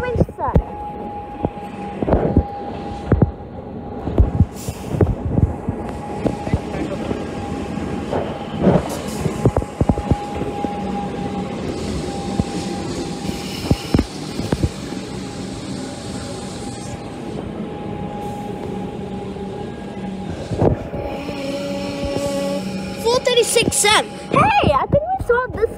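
An express train runs through a Melbourne city station with a long rumbling roar, hissing and a steady tonal whine, rising rattles near the end, while people talk nearby over the station noise.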